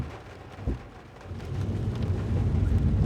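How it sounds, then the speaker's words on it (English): Heavy rain pelts the roof and windscreen of a car from inside, a dense rumbling patter with a dull thump early on, growing louder and steadier toward the end. "You can probably hear the rain lashing on the roof and on the windscreen"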